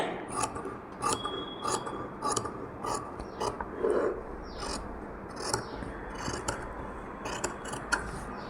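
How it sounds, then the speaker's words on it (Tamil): Scissors cutting embroidered blouse fabric, leaving a quarter-inch margin, repeated close crisp snips and slicing strokes in a steady irregular rhythm, quiet, with no talking. "இந்த 1/4 இன்ச் விட்டுட்டு கட் பண்ணுறேன் நான்."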